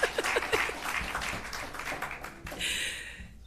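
An audience at a civil service public forum applauds with scattered clapping across the room, fairly faint and brief, tapering off near the end.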